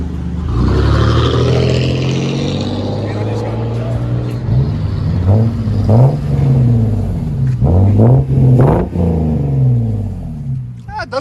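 A 2004 Lexus IS 300 with a muffler-deleted exhaust idles with a deep rumble, then revs several times in rising and falling surges, loud and close, with an occasional voice over it.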